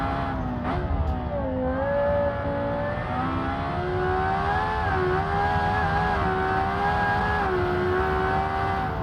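Van engine in the driving game Automation, holding a steady loud drone with rising and falling pitch as it accelerates, eases and brakes through corners, continuous throughout with no talk.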